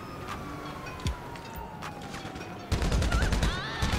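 Gunfire in Grand Theft Auto V Online, with scattered shots early on, then a dense, loud burst of rapid fire in the final second and a half.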